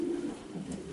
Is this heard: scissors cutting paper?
no